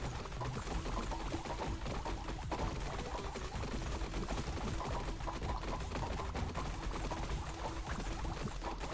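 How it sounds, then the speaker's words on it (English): Dense, continuous rattling blasts and crackling bursts pile up without pause, a loud, chaotic barrage of explosions and gunfire in the video game Bread & Butter. "we of course have a lot more explosions going on"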